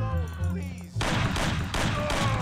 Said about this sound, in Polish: Kilka strzałów.